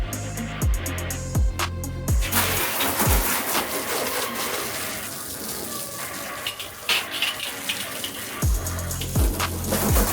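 Hose water spraying over a very dirty Ford Focus RS during a quick rinse, a continuous hissing splash that stays loud throughout, with a few low thumps near the start and end and no speech.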